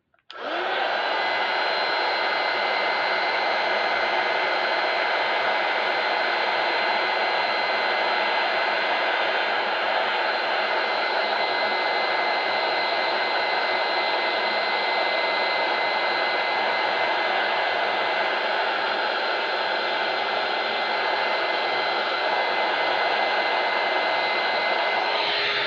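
A hair dryer blows steadily and loudly for about 25 seconds, drying a Swellegant metal finish, with a continuous broadband whoosh and no talking.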